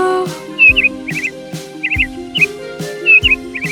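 Bright bird chirps and short trilled tweets repeat every second or so over a rhythmic music backing, clear and fairly close.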